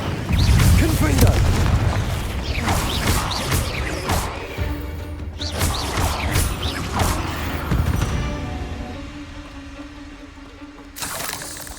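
Repeated Confringo explosive spell blasts in Hogwarts Legacy, heavy booming bursts with crashing debris layered over one another, loudest early and recurring every couple of seconds, with a voice speaking in between.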